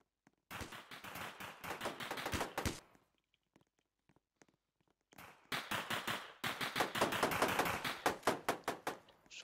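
Rapid bursts of gunfire from a Roblox police raid game, two long strings of quick, sharp shots separated by a short lull, loud and close with no voices over them.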